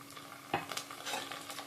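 Ginger stirred into a pan with softened onion and green chillies gives a quiet sizzle, with a sharp utensil clink against the pan and soft scraping stirs.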